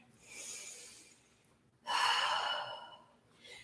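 Quiet breathing during a yoga exercise, with a soft exhale followed by a longer, stronger breath out through the nose and mouth, close and alone.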